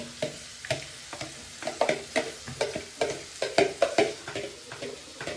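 Curry cooks in a pan with repeated scraping stirs and a sizzle underneath, the strokes coming in an irregular rhythm close up.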